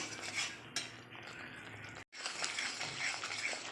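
Pumpkin cooked down in a mustard and poppy seed paste with turmeric, with close, rattling spatula scrapes and clinks against the pan and a brief pause midway.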